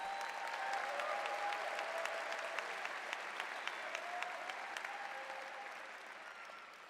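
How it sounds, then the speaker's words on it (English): Steady, dense applause from a large crowd at a university commencement ceremony honoring parents, family and friends, sustained and even for several seconds before gradually tapering. "An applause to parents and family and friends"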